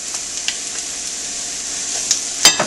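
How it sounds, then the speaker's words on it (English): Onions and garlic sauté in ghee in a pan for a vegetable korma, a loud steady close sizzle with a few soft stirring clicks and a sharper scrape near the end. "I'm just going to saute them in this ghee"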